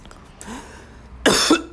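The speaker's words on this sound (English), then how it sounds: "They're making me cough." Two harsh coughs ring out near the end, loud and close, after a quieter stretch with faint throat noises.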